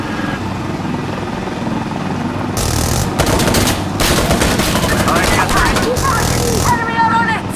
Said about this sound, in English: We see enemies. We're firing now.